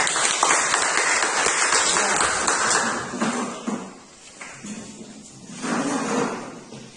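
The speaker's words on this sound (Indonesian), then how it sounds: "Tepuk tangan untuk kelompok 3." Students in a classroom applaud a student group after its discussion presentation, a fairly loud clatter of clapping that thins and fades midway before a brief second swell, with some voices in the room.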